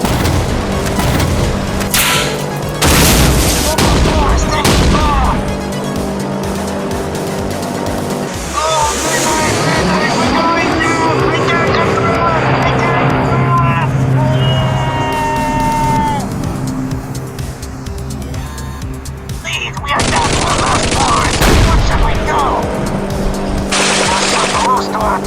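Rapid gunfire in an aerial battle against bombers, loud bursts and booms over a dense mix of engines, music and voiced dialogue throughout.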